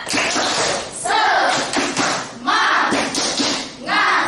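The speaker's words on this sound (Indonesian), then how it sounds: "Semuanya tepuk semangat." A primary-school class does a rhythmic spirit clap together, loud bursts of group clapping and thumping in a repeating pattern with chanting voices mixed in, close and energetic.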